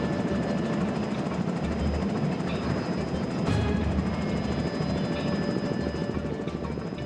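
A helicopter hovers over the sea during astronaut water survival training, its steady loud rotor and engine roar continuous throughout, with a brief louder surge midway and no talking.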